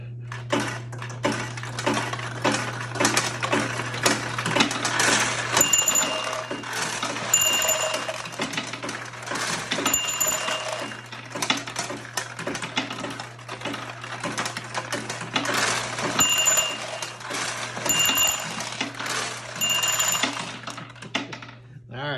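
A vintage pachinko machine runs with its roulette wheel spinning fast, giving a steady mechanical clatter and metallic ringing, with bright chimes at intervals over a constant low electric hum; a voice talks faintly in the background.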